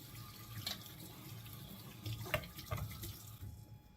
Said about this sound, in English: So just very gently rinse off your raspberries carefully